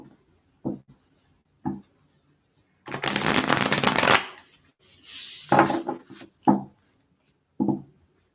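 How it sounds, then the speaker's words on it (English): Cards are shuffled: a few quick riffle bursts and taps, then a longer rippling shuffle, fairly close and fairly quiet. "So a few more shuffles here."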